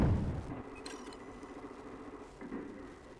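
Gunfire in a Battlefield 4 multiplayer Domination match: a few sharp shots crack out in short bursts over a steady battlefield rumble, at mid distance and fairly quiet, with no talking.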